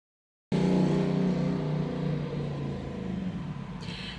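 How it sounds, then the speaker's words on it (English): A motorbike engine revving, starting abruptly after a brief silence, a loud low rumbling drone that holds steady and gradually eases, heard alone up close. "insert motorbike noise here."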